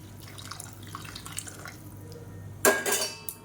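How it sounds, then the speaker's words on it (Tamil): Hot water is poured into soaked jeera samba rice in a pot while making tomato rice: faint drips and small clinks give way to a short, bright splashing gush near the end, close and unaccompanied by talk. "சூடான தண்ணியை இப்போ இதில் சேர்த்துக்கலாம்"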